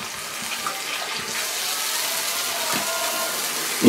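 Cold water poured from a glass into a cooking pan while preparing a Murcian chamorro dish, a steady broadband splashing hiss running nearly the whole time at moderate level, ending with a small clunk.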